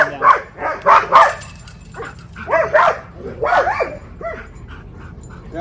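Sibling dogs that fight and are dog-aggressive, being boarded and socialized, letting out loud close barks in rapid bursts that taper into softer yips and whimpers, over a faint background.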